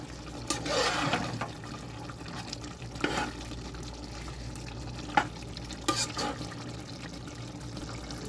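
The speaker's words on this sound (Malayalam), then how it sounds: "അപ്പോൾ നന്നായിട്ടൊന്ന് ഇളക്കി കൊടുക്കുക, അടി കുടിക്കാതിരിക്കാൻ." Mutton curry stirred in a pot as it simmers in its own juices with no water added, giving soft scraping and sloshing strokes with a steady low bubbling underneath, a few louder scrapes standing out, no talk.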